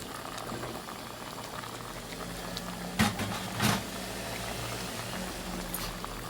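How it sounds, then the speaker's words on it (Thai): Straw mushrooms blanching in a pot of boiling water for Thai chicken galangal soup, a steady low bubbling simmer throughout with two brief louder splashes or stirring bursts near the middle. "เราต้อง ลวกก่อนทีหนึ่ง เห็ด เห็ดฟางนะ"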